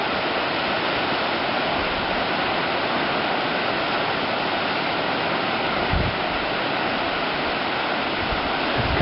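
An iceberg founders off Twillingate, Newfoundland, in July, sending up a continuous, loud rush of churning water and breaking waves with a faint low thump partway through.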